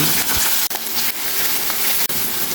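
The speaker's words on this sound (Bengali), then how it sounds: "ফোড়নের মশলাটা ভাজার পর কড়াইয়ে দিয়ে দিচ্ছি গ্রেট করে রাখা কাঁকরোলগুলো" Loud, constant sizzling as grated spiny gourd fries in hot oil in a wok, with a couple of brief clicks.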